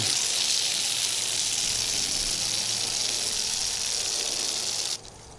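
Water sprays steadily from a hose nozzle onto a car panel in a loud, even hiss that cuts off abruptly near the end, leaving quieter background noise.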